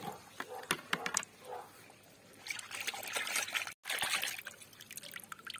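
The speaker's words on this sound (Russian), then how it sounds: "Можно чуть-чуть сюда залить, просто вот прямо воду." Water is poured and trickles over salted crucian carp being rinsed, giving quiet splashing and dribbling with scattered clicks and knocks, close and faint.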